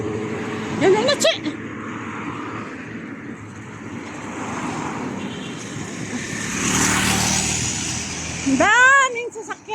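Busy road traffic rumbles steadily, with one vehicle swelling louder as it passes before fading, while people talk nearby over the constant flow.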